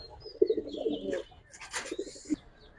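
Pigeons coo at close range, several low rounded calls in soft bursts with a brief flutter or chirp in between, no voices over them; the flock includes silver, Giribaz, racer and fancy breeds.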